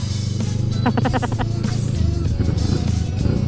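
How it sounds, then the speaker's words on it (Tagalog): CFMoto NK650 motorcycle with a Two Brothers aftermarket muffler, a deep throaty exhaust rumble with a brief rising rev burst near the start, close and loud, with faint voices in the background. "Ang sarap ng Two Brothers muffler."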